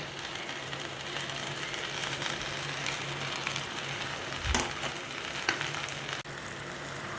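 Chopped okra (bhindi) fries steadily in a pan, giving a continuous close sizzle with a few brief clinks of stirring and no talk.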